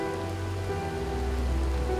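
Steady rain falls over a wetland, an even, close patter of drops on water and vegetation with no pauses and no voices.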